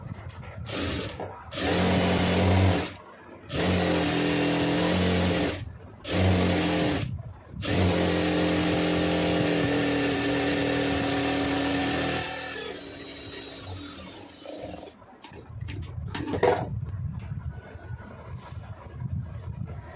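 Sewing machine stitching a quarter-inch folded neckline hem on a star or pa neck, loud steady motor runs broken by short stops, then a quieter stretch of handling noise.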